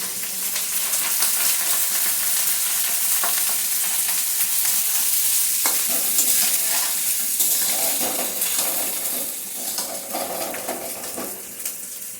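Rice sizzles steadily in a pan with cashews, black pepper and green chillies, a dense close hiss for much of the time. Scraping and stirring sounds join in the second half.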